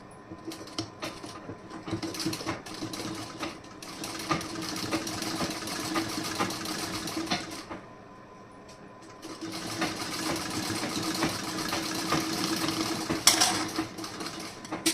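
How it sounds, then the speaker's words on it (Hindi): Domestic sewing machine stitching a garment joint, running in a fast steady whir with a brief pause midway before resuming, close and fairly quiet. "यहाँ पे सिलाई लगा दे रही हूँ।"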